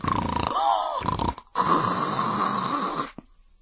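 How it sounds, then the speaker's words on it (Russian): Loud, rasping snores with a growling edge, two long drawn-out breaths with a short pause between them, close and alone. "под кустом волк спит, страшным голосом храпит"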